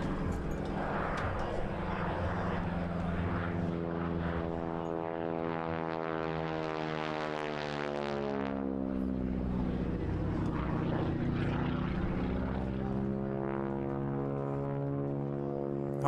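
A Harvard propeller aircraft passing at an air display, its radial engine droning with a strong harmonic growl that rises and then falls in pitch as it flies by, loud and continuous with no voices.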